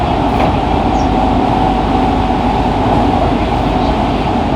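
Steady, close rumble and hum of a Fukuoka City Subway 2000 series train, set 23, with late-type Hitachi GTO-VVVF equipment, running under manual driving; the level stays even throughout with no voices.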